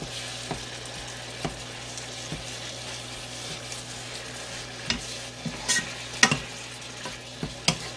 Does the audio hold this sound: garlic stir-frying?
yes